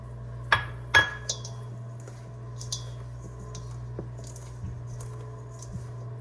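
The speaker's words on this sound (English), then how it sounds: "We are going to go ahead and add in our blueberries and just go ahead and give it a good mix." Blueberries being folded into sourdough lemon blueberry scone dough in a bowl, with two sharp utensil clinks against the bowl at the start, then quiet, faint scraping and soft taps while the mixing continues.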